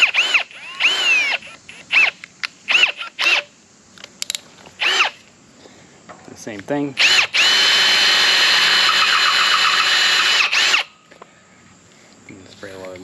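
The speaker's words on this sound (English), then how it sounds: "I'm going to drill this one out all the way, and I'll bolt it down" A power drill bores holes while a car trailer winch is being installed, running in several short bursts and then one long sustained run lasting about four seconds. The drilling is loud and close, with brief speech between bursts.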